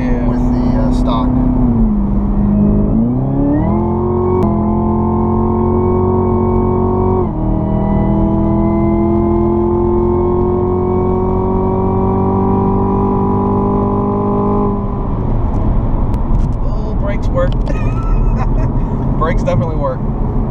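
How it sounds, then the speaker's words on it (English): A 675-horsepower Chevrolet Camaro ZL1 with a cold air intake emits a sustained supercharger whine that climbs in pitch with engine revs over a deep exhaust drone, heard from inside the car while occupants talk. "You can really hear that supercharger now."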